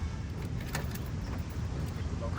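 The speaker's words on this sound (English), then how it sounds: "Lock the door." Keys jangle in light, metallic bursts while a van door is locked, heard faintly over a steady low background hum of an outdoor setting.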